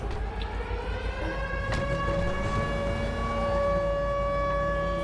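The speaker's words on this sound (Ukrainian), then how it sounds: "Повітряну тривогу об'явили" An air raid siren wails steadily at a distance, a sustained rising and falling tone over a low rumbling background, with no speech.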